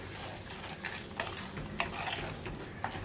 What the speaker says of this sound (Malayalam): അപ്പോൾ ദാ ഇളക്കി മിക്സ് ചെയ്യുക